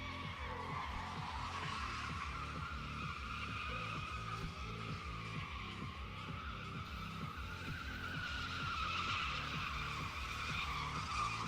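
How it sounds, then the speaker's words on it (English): Burnouts from an LT1-powered car at an evening drift and stunt show with fire nearby: a steady, loud engine roar with rhythmic pulsing and squealing tire hiss holding continuously throughout. "LT1 burnouts with fire in the background"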